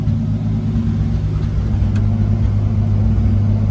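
A Toyota JZ engine in a traded car runs at a steady idle with a slightly rough, even rumble, loud and close throughout with no talking.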